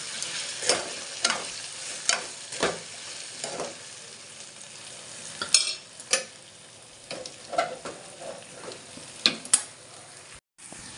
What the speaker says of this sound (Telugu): ఫస్ట్ వచ్చేసి బంగాళదుంప ఫ్రై చేస్తున్నాను